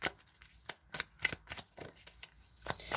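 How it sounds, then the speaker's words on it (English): Tarot cards shuffled by hand in a quiet room, a run of crisp riffling bursts and soft slaps coming in uneven clusters, close and moderately loud with no talking. "just as I began shuffling the cards"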